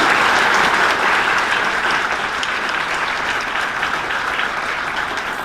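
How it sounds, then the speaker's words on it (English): Audience applause at a hospitality industry talk by a hotel general manager, a dense, steady wash of clapping from many hands that holds loud throughout before easing slightly toward the end. "Big round of applause, please."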